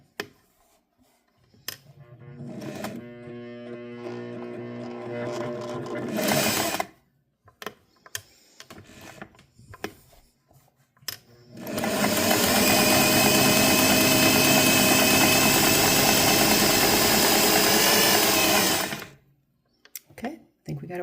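A Singer 401A Slant-o-Matic sewing machine stitching an extra wide zigzag: a short rhythmic whirring run, a pause with clicks and handling, then a longer steady, fast mechanical buzz close by.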